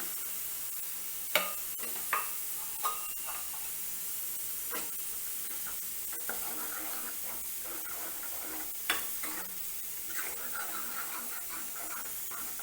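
Two blended tomatoes' worth of puree cooking in a pan for dal makhani, a steady soft sizzle and hiss with scattered sharp clicks and pops, moderately close and without talk.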